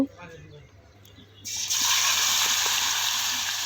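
Chicken meat for a thin home-style deshi chicken curry tipped into a hot pot with bay leaf, setting off a sudden loud, sustained sizzle and wet splatter after a quieter start with faint background talk.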